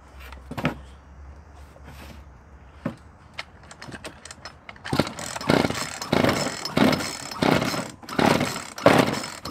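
A motorcycle found at the roadside is started on choke after a few mechanical clicks and clunks, then catches and runs in a loud, uneven idle with rhythmic pulsing bursts.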